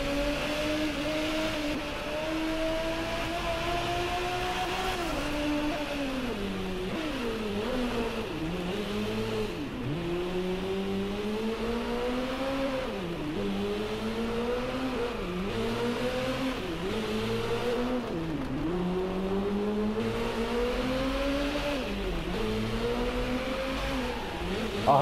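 A Lamborghini Reventon with a 6.5-litre aluminium V12 and six-speed automated manual gearbox, driven in the racing game Driveclub, drones steadily and then rises and falls through repeated revs and gear changes with no talk over it.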